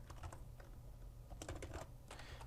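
Quiet, steady typing on a computer keyboard, soft clustered key taps in short bursts, close by, with no talking.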